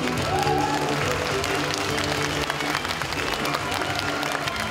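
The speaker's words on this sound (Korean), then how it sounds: "다시 한번 큰 박수 부탁드립니다." Dense, steady applause from a large crowd at the Democratic Party's Daejeon chapter delegates' convention fills the whole stretch without a break, with a voice briefly rising above it near the start.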